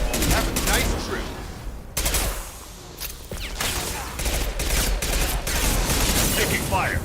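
Rapid bursts of gunfire from a Mass Effect: Legendary Edition firefight crackle loudly and repeatedly, sharp shots stacking over a dense game soundscape, with voices speaking in between.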